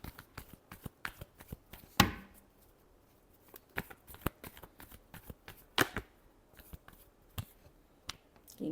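Tarot cards being shuffled by hand close up, a quick series of crisp riffles and taps in an uneven rhythm, with a couple of louder card snaps standing out.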